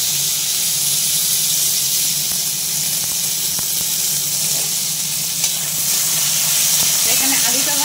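Salted potatoes fry in a wok with dry red chillies and five-spice seeds, a loud, continuous sizzle and steamy hiss with occasional stirring scrapes, close up.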